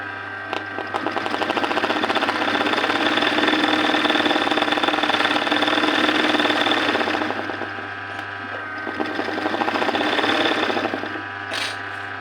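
An embroidery machine sews a filling stitch with a loud, steady, rapid mechanical whir and hum. It dips briefly partway through, then resumes and tapers near the end, with no voices.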